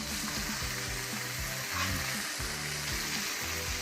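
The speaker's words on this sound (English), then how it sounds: "When we're cooking eggs, we're gonna do it here in this non-stick pan" Eggs frying in a hot non-stick pan, a loud, steady crackling sizzle close up with no talk.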